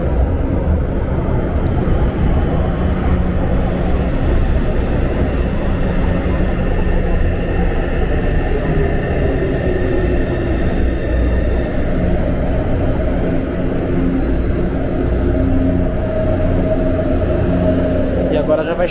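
A São Paulo metro H60 train moves through a Line 3 station at Palmeiras-Barra Funda, producing a steady, loud rumble with whining motor tones throughout. Voices can be heard faintly in the background.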